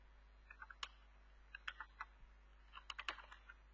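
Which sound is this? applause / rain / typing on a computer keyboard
typing on a computer keyboard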